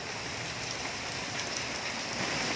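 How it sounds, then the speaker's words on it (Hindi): Heavy monsoon-style downpour pounding a flooded rooftop, a loud, dense, unbroken hiss of rain with no voices. "बारिश अभी भी बहुत तेज़ वाली शुरू है और सारा छत पानी पानी हो चुका है"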